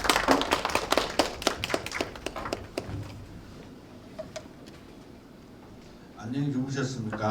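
Audience applause greets a professor arriving to speak at a Caritas practitioners' forum, a brisk burst of many hands clapping that thins out over a few seconds into quiet room tone before a voice begins talking.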